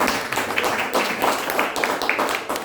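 A church congregation claps in worship, a dense field of hands beating with a loose rhythmic pulse, close and fairly loud, continuing steadily without speech.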